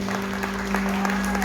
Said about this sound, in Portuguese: Aleluia, um aplauso para Jesus que Ele merece